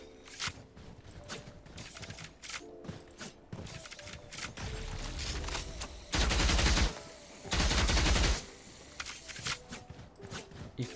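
Valorant gameplay with Viper's snakebite lineup being thrown, heard as rapid clicking gunfire bursts and mechanical weapon sounds, with two louder sustained blasts midway, all close and without talk.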